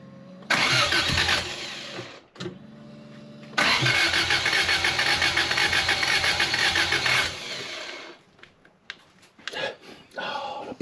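A car engine cranks with a loud, steady whirring, stops, then cranks again at length without catching, followed by scattered clanks and knocks as the noise dies away.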